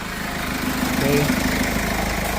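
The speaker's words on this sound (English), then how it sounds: "So you hear the hard start as usual." The engine of a 2012 Kia Sorento with a hard-starting, power-loss fault runs at a steady, loud idle with a rough low throb, close by and alone.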